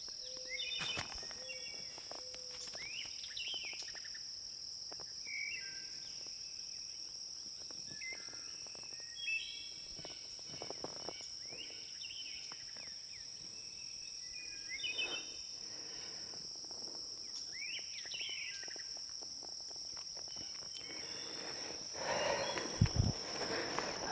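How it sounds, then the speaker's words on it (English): Crickets and insects chirr steadily beside a spring creek, with scattered bird calls and chirps rising over the constant insect hum in a quiet outdoor setting. "just listen to the birds. This is not me like putting bird audio over this scene."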